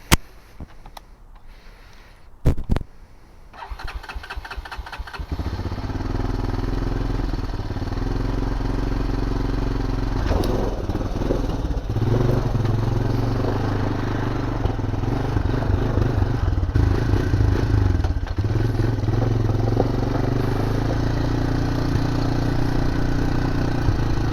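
A Honda 250ex ATV, running on bad gas, cranks with a few sharp starter bursts, then catches and settles into a steady, loud, close idle with a rumbling low throb and slight clatter that continues for a long stretch.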